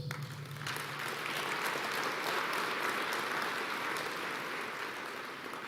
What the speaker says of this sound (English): And I do believe that they deserve a round of applause.